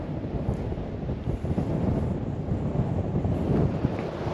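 Strong wind roars steadily at a campsite in Baja California, a dense continuous buffeting rush against the microphone with no voices.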